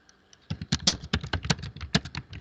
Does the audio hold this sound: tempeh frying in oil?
no